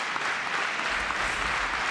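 Tennis crowd at the 2007 Memphis final applauding steadily, a dense, even wash of clapping from a large audience with no pauses.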